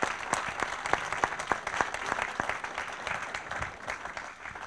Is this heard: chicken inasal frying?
no